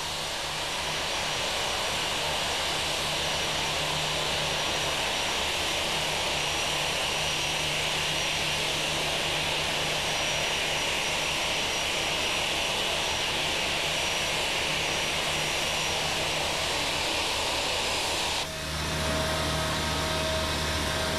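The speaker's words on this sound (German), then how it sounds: "Kaum hat der Airbus seine Parkposition erreicht" A Lufthansa Airbus A320 jet taxiing to its parking position, a loud steady turbine whine and rumble held for about eighteen seconds before an abrupt shift to a lower, altered engine tone near the end.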